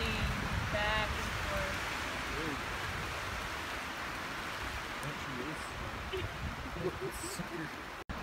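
Rain falling among swaying trees beside Leigh Lake in Grand Teton National Park, a steady soft hiss of drops on leaves and surfaces with a brief voice near the start and a sharp knock near the end.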